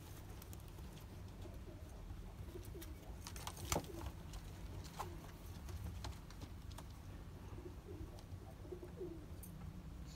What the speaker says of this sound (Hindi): अमेरिकन पिजन बहुत ही खूबसूरत, see the size, beautiful pair